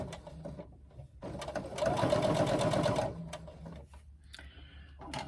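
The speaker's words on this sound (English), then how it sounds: "I'm doing chain stitching" A domestic sewing machine runs a steady burst of chain stitching on a swim bag, a rapid close mechanical whir lasting over a second before stopping amid quieter handling noises.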